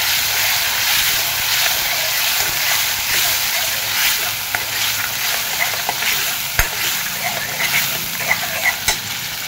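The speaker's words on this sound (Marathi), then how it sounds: "आपण आता हे बारीक केलेला मसाला त्याला पण तेल सुटेपर्यंत भाजून घेऊया." Ground masala frying in oil in a pan while cooking aluvadi rassa bhaji, a loud steady sizzle and hiss with occasional stirring clicks and scrapes, no one speaking.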